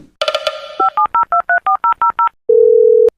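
Touch-tone phone dialing for a police call in a Hindi comedy sketch: a rapid string of about ten loud, evenly spaced keypad beeps, followed by a long steady tone, with no talking.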